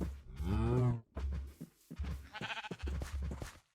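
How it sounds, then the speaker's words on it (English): Sheep and cows in the Minecraft 1.19 video game: a drawn-out moo followed by several bleats and lowing calls in quick succession, close and clear with no talking. "Firstly, we grabbed a couple cows, and then we ran into a couple sheep as well."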